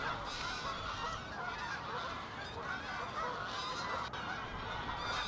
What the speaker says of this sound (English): who's that in the middle of all those geese?